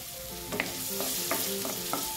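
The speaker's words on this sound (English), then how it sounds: "Then add the potato slices and fry them until they are done." Potato slices fry in hot oil in a pan on medium heat, giving a steady close sizzle with a few soft scraping stirs on top.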